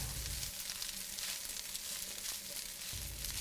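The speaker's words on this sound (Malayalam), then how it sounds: "സ്റ്റിർ ഫ്രൈ ചെയ്തെടുക്കുക." Chicken fried rice stir-frying over high heat, a steady, dense sizzle filling the whole stretch with no breaks, close and fairly quiet.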